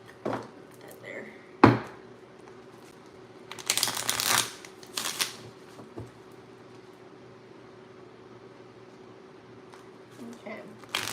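A deck of tarot cards is shuffled by hand in a few close, papery riffling bursts, separated by quieter stretches where a person talks softly.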